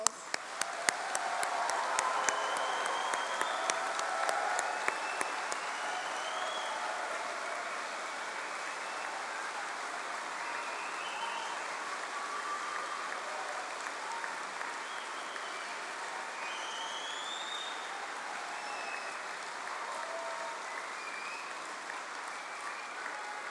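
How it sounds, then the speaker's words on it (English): A large audience at a London university degree ceremony gives sustained applause for graduates, steady dense clapping from the start that holds evenly throughout, with no voices over it. "Let's give all these wonderful graduates another round of applause."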